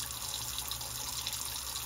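Hot water runs steadily from a household tap into a sink, a continuous even splashing hiss with no voices, used to warm a bottle for model painting.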